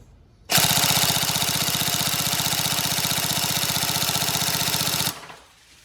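Upgraded Tokyo Marui MP5A5 next-generation recoil shock airsoft electric gun firing one long full-auto burst of about four and a half seconds, a loud, close, rapid mechanical buzz that starts and stops abruptly.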